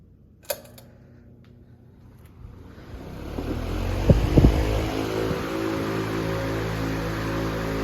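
Vintage Freshnd Aire 26-inch table fan, Model 2600, set on high: a click, then a steadily rising whoosh of air and motor hum that builds into a loud, constant roar.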